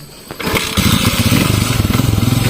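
A habal-habal motorcycle engine cranks and catches, then settles into a loud, close, steadily pulsing idle with a rough throb that continues to the end.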